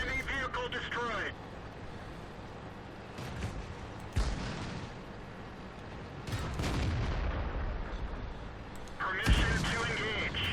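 Tank guns fire in World of Tanks tank destroyer combat, with several loud booming blasts standing out against continuous battle noise and radio-style game voice lines throughout.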